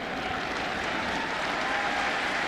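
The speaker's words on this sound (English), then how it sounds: "being cheered by this sellout crowd" A sellout stadium crowd roars and cheers at an NFL football game between Tampa Bay and Arizona in 2010, a dense, steady wall of distant crowd noise and applause with no pauses.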